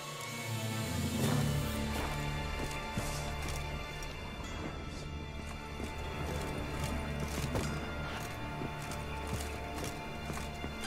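Horse hooves in The Witcher 3 clip-clop at a steady pace through the whole stretch, loud and close over a busy game soundtrack of music and effects.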